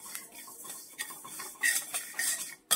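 Sesame seeds dry-roast in a hot kadhai, a faint crackle under irregular scraping and clinking strokes of a stirring spoon against the metal, with a few sharper taps near the end.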